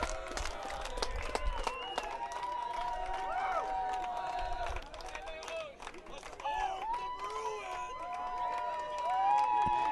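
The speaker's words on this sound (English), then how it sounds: "And a try for Ontario. Zosiah Ruslowicz and big cheering celebration from Ontario supporters." Ontario supporters erupt in cheering and applause after a try at a rugby cup final against British Columbia, a sustained, fairly distant crowd roar with clapping and shouts.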